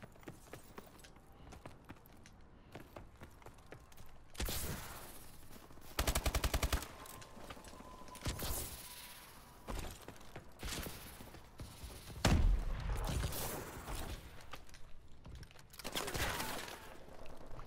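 Video game gunfire from a multiplayer shooter: bursts of automatic weapon fire and sharp single shots come in clusters at close range, loud and punchy, with quieter ambient game sounds between volleys and no talking.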